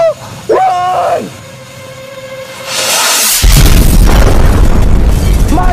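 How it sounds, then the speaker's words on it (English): A sudden loud boom of a firework bursts after a voice and a quieter stretch, followed by sustained crackling rumble. "That was a big explosion, Junior!"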